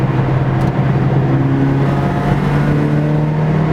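A Toyota AE82 Corolla with a 4AGE engine revs hard, a loud, sustained engine whine with a strong steady tone that climbs slightly as it pulls, heard from close by without talk.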